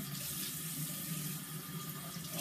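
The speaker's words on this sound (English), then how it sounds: "I'm going to take a shower." Steady water streams from a shower, a continuous broadband hiss with no speech over it.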